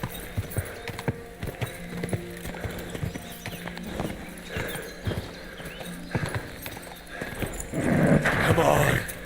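Horse hooves clip-clop and thud at a gallop in the medieval video game Kingdom Come: Deliverance II, building to a louder burst near the end, with a voice and a brief whinny.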